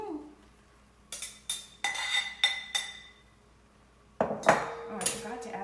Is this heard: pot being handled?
yes